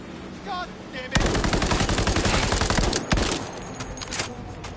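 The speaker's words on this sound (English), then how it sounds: "The more headshots we get, obviously, the quicker they go down." Dense automatic gunfire in Cyberpunk 2077, loud rapid bursts rattling for several seconds with short pauses and sharp single shots, mixed with brief game sounds and faint voices.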